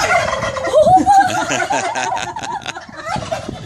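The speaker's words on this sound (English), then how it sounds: "We've got two turkeys." Two big turkeys gobbling at a sheriff's animal farm, a rapid, warbling gobble burst up close followed by softer gurgling calls, with faint background voices.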